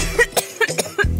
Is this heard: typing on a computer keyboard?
no